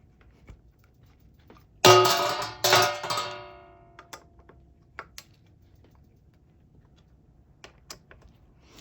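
Bolts are tightened by hand while a 12-inch Kink roaster is assembled: two sharp metallic clanks ring out, then light scattered ticks and clicks follow in a quiet space.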